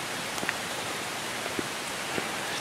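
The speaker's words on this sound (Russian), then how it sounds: "Дождь идет все время." Steady rain hisses down continuously in the Králický Sněžník mountains of Poland in the dark, with a few louder drops pattering close by against a constant wash of falling water.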